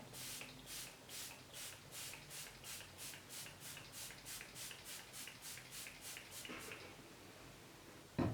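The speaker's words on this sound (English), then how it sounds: "Oh, it's got a nice fine mist to it." A L'Oreal setting spray mists in a quick run of about fourteen evenly spaced, soft hissing pumps. The sprays are faint and close, with no voices, and stop with a small clunk at the end.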